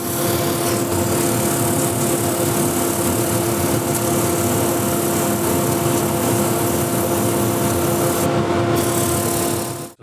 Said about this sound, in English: now I can sand this part to finish sanding